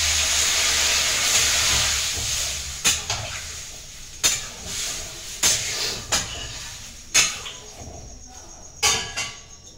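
Water poured into a pan of cooking cauliflower and potato curry sets off loud, steady sizzling hiss, broken by several sharp clinks of a utensil against the pot.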